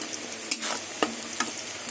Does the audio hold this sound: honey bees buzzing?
no